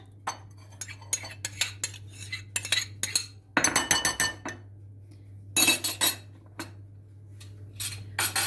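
Spoon whisking milk and labneh in a bowl for a cinnamon roll cream, giving quick bursts of clinking, scraping strokes over a low steady hum, with a louder, busier stretch midway.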